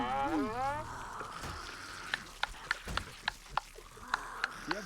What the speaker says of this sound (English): You have whale noises, Travis?